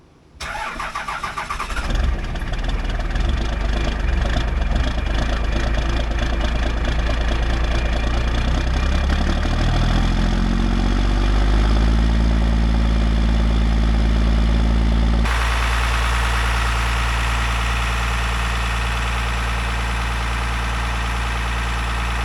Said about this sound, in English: Let's go see if we can get a cold start on the old tractor.